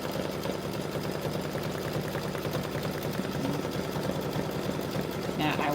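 An embroidery machine stitches a mug rug held in the hoop, giving a steady, fast mechanical whirr with a dense rhythmic needle patter. It runs continuously at moderate loudness, with a brief higher-pitched burst near the end.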